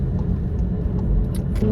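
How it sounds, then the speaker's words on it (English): A VW MK7 GTI engine rumbles through heel-toe downshifts inside the car, a low, steady drone with slight rises in revs. "A couple downshifts here."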